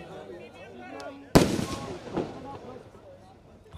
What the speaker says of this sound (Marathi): फटाके अजून बाकी आहे.